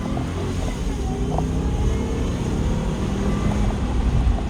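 A supercharged 2006 Range Rover accelerating hard, its engine and supercharger whine forming a steady, loud roar with broadband road and wind noise throughout, no voices.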